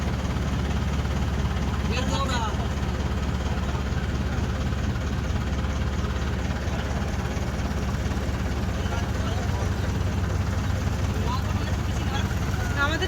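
A passenger boat engine drones steadily while travelling on the water from Gosaba, a loud, constant low rumble filling the whole stretch.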